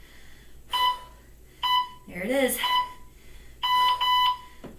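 Electronic workout timer beeps during a total-body HIIT session, sounding as three loud, steady tonal bursts spaced about a second apart, with an instructor talking briefly between them.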